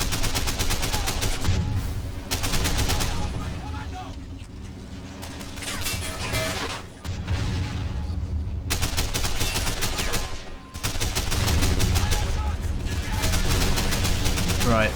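Dense, sustained gunfire rattles in bursts during a battle in the strategy game Men of War, loud and nearly continuous with brief gaps, mixed with rapid shots and the clatter of combat.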